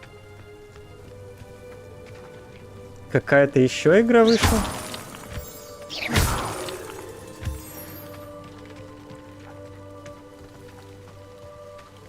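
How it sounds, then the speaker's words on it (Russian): Steady rain falls in the video game Hogwarts Legacy, a faint patter running throughout beneath people talking and a few sharper crackling bursts. "мне нравится, как вот идет дождь и прям капельки появляются на одежде"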